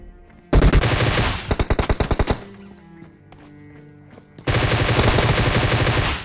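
Groza assault rifle gunfire in a video game: a long, loud automatic burst, then a quick string of separate sharp shots, a quieter lull with distant pops, and another sustained roaring burst to the end.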